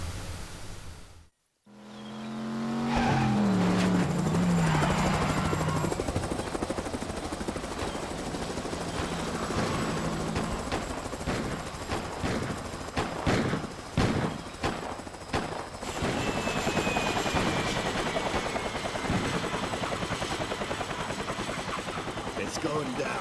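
Helicopter in the video game Driver 2, a steady loud rotor drone running the whole time with bursts of gunfire cutting in, and voices heard over it.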